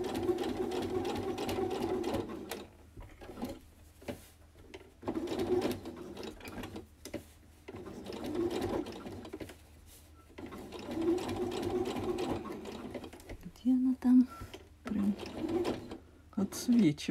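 A sewing machine stitches a doll dress in several bursts of rapid whirring and clattering, stopping and starting between runs, with a person speaking quietly in the pauses.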